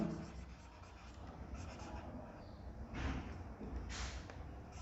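Writing on a board during a grammar lesson gives a continuous dry scratching that swells into firmer strokes near the middle and end, with no talking over it.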